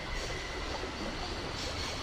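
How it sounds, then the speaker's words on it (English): A spring-operated locomotive from Syberia runs with a continuous low rumble and faint rail rattle, steady and moderately quiet, with no voices. "A spring-operated locomotive."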